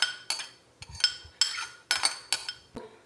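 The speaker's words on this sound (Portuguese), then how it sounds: "Agora vou misturar o macarrão cozido, a cenoura ralada," Pasta salad with grated carrot and mozzarella being stirred in a bowl with mayonnaise, a utensil clinking and scraping against the dish in a series of short, close, irregular strokes.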